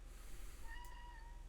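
A cat gives a single faint, rising meow over a low background hum in a quiet room, with no one talking.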